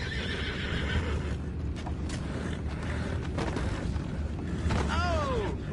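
Horses neigh and whinny, with a clear descending whinny near the end over clip-clop hooves, creaking and a background rumble.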